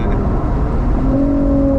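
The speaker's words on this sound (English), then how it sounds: "Yeah, it's called rev limiter and" A 2008 Lexus IS250 V6 holds a steady high-rpm drone, bouncing off the rev limiter with a sustained tone that stays loud and close throughout.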